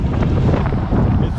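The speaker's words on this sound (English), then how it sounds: "It's so windy." Strong wind buffets the microphone at the Grand Canyon in Arizona, a loud, continuous low roar across the whole moment with faint voices underneath.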